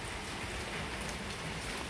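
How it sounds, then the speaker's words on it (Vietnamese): Steady rain falling on a parked Honda RV125 motorcycle outdoors, a continuous dense patter with no voices and an even, close hiss throughout. "đang mưa luôn, mưa ướt nha"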